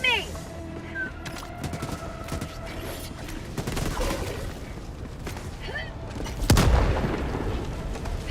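Video game combat with rapid gunfire, bursts and a heavy grenade boom near the end, busy and loud over continuous battle noise.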